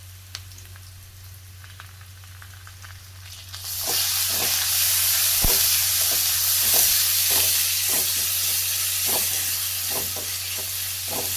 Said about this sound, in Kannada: ಲೋ ಫ್ಲೇಮಲ್ಲಿ ಬಾಡಿಸ್ಕೊಳ್ಳಿ.